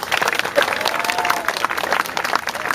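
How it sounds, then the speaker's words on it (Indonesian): Audience at a Balinese Calonarang performance clapping, a busy crowd wash with a few scattered voices mixed into the clapping. "Panas tepuk tangan dulu nih."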